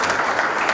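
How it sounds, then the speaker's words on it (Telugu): Guests clap together at a wedding ceremony, a short dense burst of applause at full strength from start to finish. "చప్పట్లు కొడదామా?"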